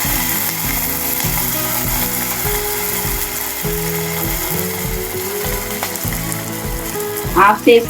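Dried red chillies and curry leaves crackle in hot oil for a tempering, giving a continuous close sizzle with a mechanical rattling layer and a few sharper pops near the end.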